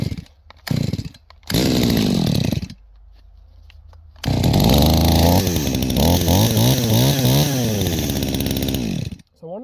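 Holzfforma G372 chainsaw, a Chinese saw with a failed crankshaft seal and suspected air leak, is pulled over a few times, then fires and idles roughly before revving up and down in repeated surges, loud and close.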